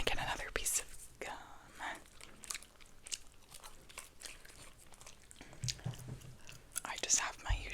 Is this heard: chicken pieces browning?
no